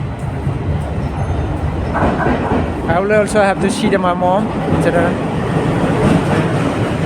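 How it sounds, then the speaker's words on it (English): A train pulls into a station, its rumble and clatter running throughout. Brakes squeal loudly in the middle, and a person talks over the noise. "This is the train"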